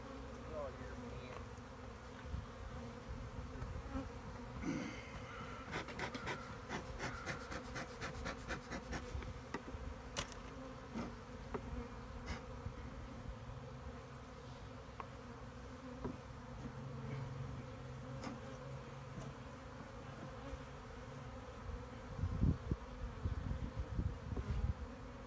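Honeybees buzz steadily around an open hive during a spring inspection in North Seattle, a faint, continuous drone with individual bees passing close now and then.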